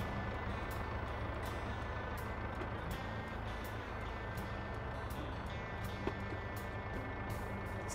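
A truck's reversing alarm in Farming Simulator 22 beeps at an even pace over a steady low engine rumble, moderately loud and continuous throughout.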